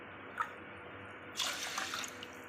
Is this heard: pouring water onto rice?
yes